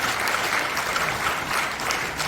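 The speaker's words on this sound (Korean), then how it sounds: "다시 한번 큰 박수 부탁드립니다" Attendees at a Christian prayer breakfast held in a National Assembly members' hall conference room applaud warmly, a continuous, even roar of many clapping hands filling the whole stretch.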